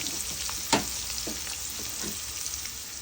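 Goat gizzard (pangra) fries in hot oil with a continuous crackling sizzle, a sharp utensil knock early on and a few softer stirring scrapes after it.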